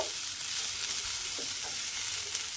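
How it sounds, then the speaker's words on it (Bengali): Steady sizzling of banana stem stir-frying in a pan with soft stirring scrapes, continuous and close, no voices. "এইভাবে একটু নেড়ে নেড়ে রান্না করে নেব"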